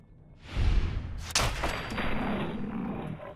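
Gunfire in Fallout 4 as a player shoots a feral ghoul, a sharp loud shot after a rumbling onset, followed by a decaying echoing tail.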